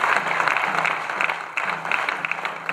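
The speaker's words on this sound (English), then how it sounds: "please join me in giving a round of applause to the 4 honorable deputy speakers" Delegates at an ECOWAS parliamentary seminar on illegal mining in West Africa applaud the deputy speakers, the clapping close and fairly loud with a faint low hum running beneath it.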